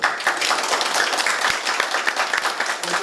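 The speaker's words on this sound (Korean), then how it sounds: "봉양순 의원님한테 좀 다시 한번 박수 한번 부탁드릴게요" Applause from the audience at a Korean public debate on an ordinance to prevent elder abuse, a dense burst of many people clapping close by that runs steadily for a few seconds.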